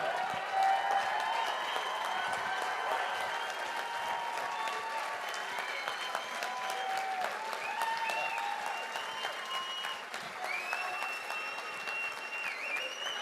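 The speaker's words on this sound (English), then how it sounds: "can we give a massive round of applause for the one and only Mel Gibson?" A large audience gives sustained, enthusiastic applause for Mel Gibson at an event in Scotland. The dense clapping is mixed with cheers and whistles and carries on evenly throughout.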